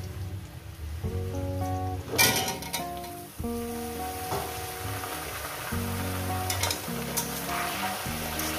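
Pumpkin pieces frying in a pan give a loud, continuous sizzle with crackling spatter, broken by a few scraping stirs and metallic knocks, while a faint musical backing plays underneath.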